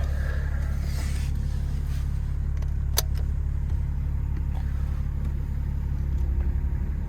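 Inside a 80 series Land Cruiser swapped with a 2021 LM2 Duramax diesel and 10-speed transmission while driving, a steady low engine drone with light cabin rattles and one sharp click.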